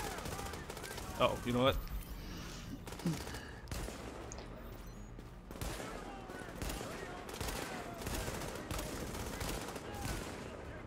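Bursts of automatic gunfire ring out in a The Division shootout, firing in repeated volleys and rapid strings at mid distance while someone talks briefly over the action.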